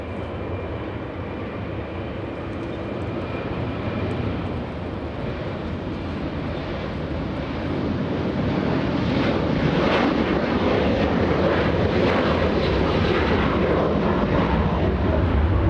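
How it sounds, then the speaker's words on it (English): A Delta airliner at LAX bound for Raleigh, North Carolina, rumbles as a steady broadband jet roar that swells louder partway through and holds, with wind buffeting the microphone. "Let's go for the Delta flight heading to Raleigh,"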